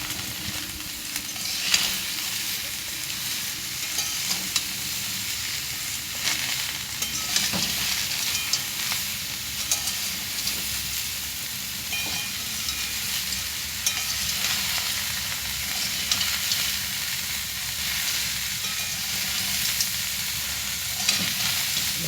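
Potatoes and bori sauté in a pan with a steady, close sizzle, broken by frequent scraping stirs that continue evenly throughout, with no talking.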